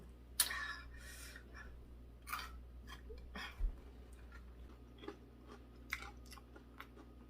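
Crisp bites into butterflied crispy fried chicken coated in hot sauce, a few sharp crunches spaced apart amid quieter chewing, close and fairly faint.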